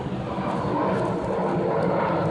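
Airplane passing overhead as it comes in to land at a nearby airport, a steady broad roar with a smooth, continuous whoosh and no voices.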